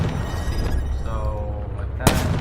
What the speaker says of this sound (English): It's like a mid-range shotgun. So I'm just going to shoot it for you.